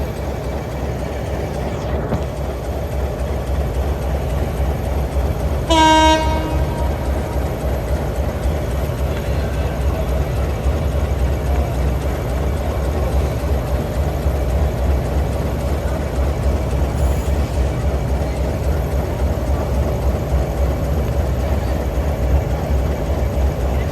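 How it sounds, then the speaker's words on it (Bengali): The Jahanabad Express runs through Gandaria railway station with a steady heavy rumble throughout, and one short, loud horn blast sounds around the sixth second. No one speaks. "ট্রেনটি এখন গ্যান্ডারিয়া রেলওয়ে স্টেশন থ্রুপাস করে যাবে।"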